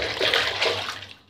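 Geodesic bath bomb with Himalayan sea salt chunks fizzing in a tub of hot water, a soft bubbling hiss with light splashing that fades out at the end.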